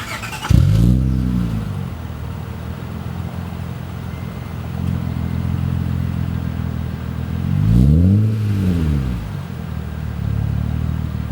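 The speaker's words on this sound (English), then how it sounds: "Now for the exhaust, we got to make this thing sound amazing." An Acura TL with a loud aftermarket exhaust revs sharply twice, each burst climbing and falling, with a steady idle rumble between.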